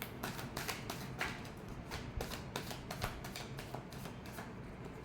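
Tarot cards are shuffled in a steady run of quick papery riffles and soft slaps. The sound is close and fairly quiet, with no talking.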